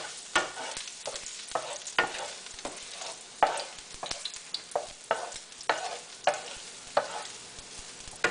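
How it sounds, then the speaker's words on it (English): Garlic sautéed in a pan for a seafood sauce, with a quiet background sizzle broken by repeated sharp scraping strokes of a utensil stirring at a roughly regular rhythm, close and without talk. "Saute the garlic for 1 to 2 minutes."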